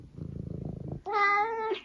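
A domestic cat purrs close up in a soft, rapid rumbling pulse for about a second, then breaks into a clear, drawn-out meow.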